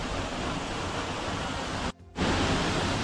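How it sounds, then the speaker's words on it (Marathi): A waterfall at Ramghal near Tondoshi roars as a dense, steady rush of falling water, close and loud, with a brief near-silent gap toward the end before the torrent resumes. "हा वरतून वॉटरफॉल पडणारा दृश्य आहे"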